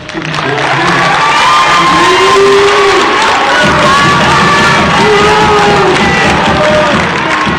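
An audience at a school board of education meeting erupts in a loud, sustained mix of cheering, whoops, shouts and clapping. A few voices rise above the crowd noise, and the whole burst stays close and full throughout.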